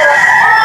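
A young stag rooster crows at a chicken market in Lipa, Batangas, a short, loud, nasal cry cut off abruptly, close by with market noise underneath.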